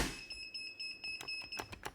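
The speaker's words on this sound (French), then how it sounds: "On rallume les buzzers." Electronic quiz game show buzzers beep repeatedly, steady high tones with several short bursts, loud and close in a studio setting, with no talking.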